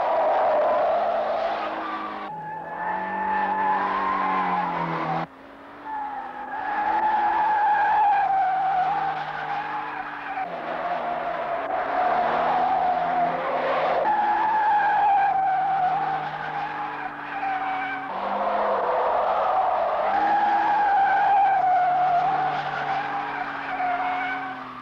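Everyday road cars skidding around a handling test circuit, tires squealing in long wavering howls, several drawn-out skids in a row with brief breaks between them, loud and close, with no talking.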